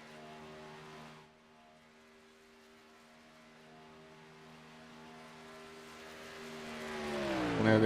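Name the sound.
race cars running on track at Auto Club Speedway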